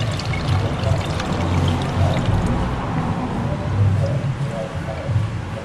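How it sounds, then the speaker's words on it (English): Fresh coconut milk, squeezed from grated coconut, strains in a loud, steady, continuous pour and trickle into a cooking pot while making Grenada's oil down, with faint voices in the background. "So now we're gonna strain it into this pot here."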